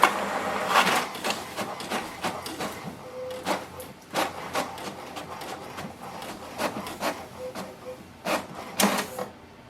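HP printer running a level 2 cleaning cycle after ink cartridge refilling, producing repeated mechanical clicks, whirs and short rattling bursts at an uneven rhythm, close by with no talking.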